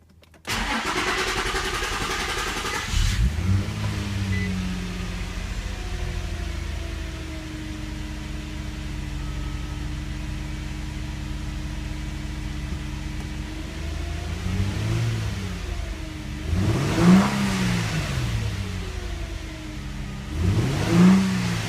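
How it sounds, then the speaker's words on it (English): An Infiniti G35 / Nissan 350Z engine cranks and starts after a fuel pump replacement, catching into a steady idle with a couple of short revs near the end, recorded close up with no talking. "Now you can try starting the car."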